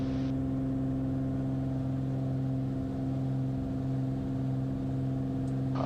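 A light aircraft engine runs at full takeoff power, a loud, steady droning hum with strong low tones that holds unchanged from start to finish.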